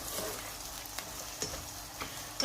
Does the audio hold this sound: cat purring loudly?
no